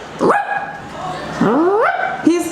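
A working dog gives a few loud, close barks and yips with a whiny rising tone, spaced out over a couple of seconds.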